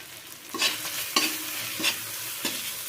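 A hilsa fish head and Malabar spinach curry with turmeric is stirred in a pan, four distinct scraping strokes of a spoon over a low, steady sizzle, with no one speaking.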